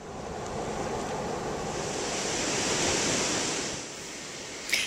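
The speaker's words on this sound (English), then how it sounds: "The water from the canal flows over the weir into the Platte River." Steady rushing water pouring over a low concrete weir from a canal into a river, a continuous broadband roar with slight swells, fairly close and loud, no voices.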